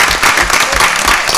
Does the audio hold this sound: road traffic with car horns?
no